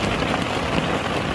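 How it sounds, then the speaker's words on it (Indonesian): Steady rain falls in the mountains near a fishing spot at Cirata reservoir, a dense, even hiss of drops filling the whole moment with no voices. "hujan gunungan nih kalau arah pulang."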